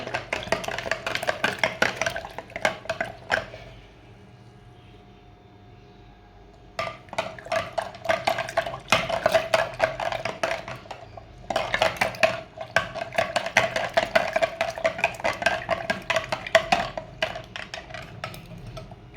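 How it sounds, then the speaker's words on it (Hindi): A spoon clinks and scrapes rapidly inside a glass as a sattu drink mixture is stirred, in two long loud runs split by a short quiet gap. "अब इसको हम अच्छी तरह मिक्स करेंगे।"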